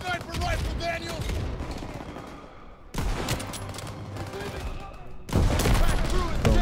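Bursts of automatic rifle and machine-gun fire in Call of Duty: WWII veteran-mode campaign combat, loud and close, with rapid volleys that pause and then return harder near the end, under a speaking player's voice.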